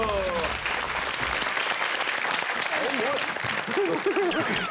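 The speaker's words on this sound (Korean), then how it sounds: "박수" A Korean TV studio audience breaks into applause after an exercise demonstration on a health show, a continuous, loud wash of clapping with voices faintly mixed in.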